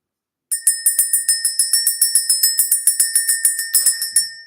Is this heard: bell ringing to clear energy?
yes